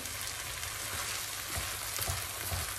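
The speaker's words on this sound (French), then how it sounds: "Je vais mélanger avec beaucoup de délicatesse parce que vu la taille de ma poêle" Cauliflower rice with peas stirred gently in a frying pan, giving a steady close sizzle of frying with soft scraping stir sounds throughout, no voices.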